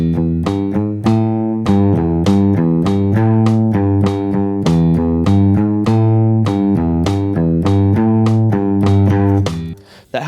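Electric guitar strummed in a steady rhythmic pattern with one muted downstroke that skips the strings, bright chord hits repeating evenly for about ten seconds, played alone and close.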